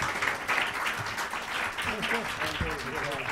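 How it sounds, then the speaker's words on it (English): An audience applauds panelists at a livestreamed conference session, a steady mid-level clapping that runs under a voice speaking over it. "Please, a round of applause and thanks to our esteemed panelists."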